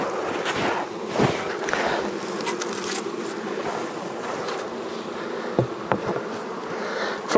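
Honeybees buzzing around an open hive during a powdered sugar mite treatment, a dense continuous close drone with a few soft knocks of frames and equipment.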